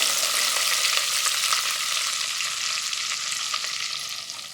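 Curry leaves frying in hot oil with browned onion and garlic, a continuous bright sizzle with small crackles and pops, close and steady, easing slightly toward the end.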